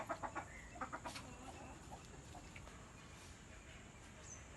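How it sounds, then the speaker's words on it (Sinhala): Soft clucking from chickens at close range as they come out of their coop, a few quick bursts at first and then quieter, over a faint outdoor village background. "කුකුල් පවුලම්ම කුඩුවෙන් මතුවෙනව එනව"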